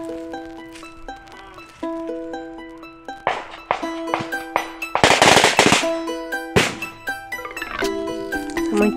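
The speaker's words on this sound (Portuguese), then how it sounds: "Estão armados. Estão dando tiros. Muitos tiros." Gunfire at a Guarani and Kaiowá land retaking comes as a string of loud, sharp bangs in irregular bursts. They fall over sustained tonal ringing, and one dense roar swells in the middle of the clip.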